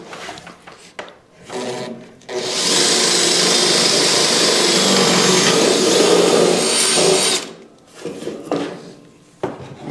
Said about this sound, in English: We can drill that one now because we're close to it.